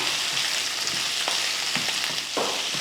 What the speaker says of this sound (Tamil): ஒரு கையளவுக்கு மல்லித்தலை சேர்த்து அதையும் வதக்கி விட்ருவோம்